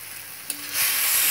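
Spices with turmeric and garam masala cooking in a pan, with a quiet sizzle, a sharp stirring knock, then a sudden, louder bright hiss that swells and holds.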